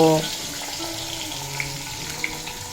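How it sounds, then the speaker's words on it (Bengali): Fish heads fry in hot oil over a low-medium flame while greens are prepared, giving a steady, moderate sizzle and hiss after a brief tonal sound at the start, with a couple of faint clicks and no talk. "তেল গরম হয়ে গেছে এবার মাছের মাথাগুলো খুব ভালোভাবে লো মিডিয়াম ফ্লেমে রেখে ভেজে নেব"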